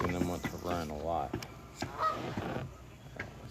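A goose on a lake honks loudly and repeatedly in the foreground, harsh nasal calls in an uneven series, with a quieter honk or two later over open outdoor ambience.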